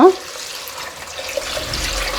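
Ten glasses of water run and splash steadily into a bowl for making pongal after a brief clunk at the start, a continuous close pouring sound.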